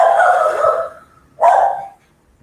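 A dog gives two drawn-out vocal calls, loud and close, with a short pause between them and quiet after, alone without talk.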